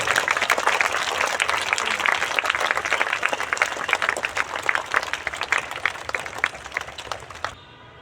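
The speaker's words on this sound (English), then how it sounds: "Let us give a round of applause and welcome one another." Round of applause from a school assembly gathered for the start of a new academic session, a dense wash of many hands clapping steadily and loudly before cutting off abruptly near the end.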